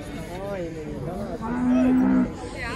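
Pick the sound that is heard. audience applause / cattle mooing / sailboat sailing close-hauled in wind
cattle mooing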